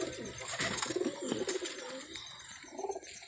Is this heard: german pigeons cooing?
yes